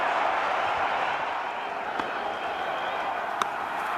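A home crowd roars and applauds at a 2016 Pakistan vs India T20 Asia Cup cricket match after a bowled wicket, a steady, dense wash of distant stadium noise with a few sharper claps.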